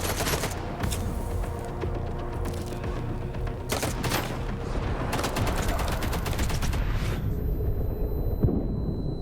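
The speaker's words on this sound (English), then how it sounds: "we actually got the sniper shot off" Rifle fire in a video game, including a sniper shot, comes as a busy run of sharp gunshot bursts and explosive cracks, loud and repeated across the stretch before tailing into a quieter hum.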